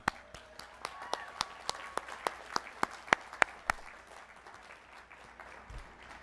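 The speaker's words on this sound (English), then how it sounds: "Please join me in applauding our dedicated faculty and staff." At a 2006 business-college commencement, the audience applauds faculty and staff with sharp, distinct claps in a quick, fairly regular rhythm. The clapping sounds distant and fairly faint, then trails off into a quiet room tone.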